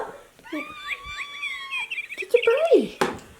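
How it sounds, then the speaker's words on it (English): Chirping electronic birdsong from a cat's bird toy, a run of tweets and trills near and fairly loud, with a few brief squeaks toward the end. "So apparently he likes the sound of birds."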